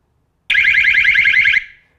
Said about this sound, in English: I can manually turn on the siren, but of course, in the normal case, the alarm system siren will go off when an intrusion is detected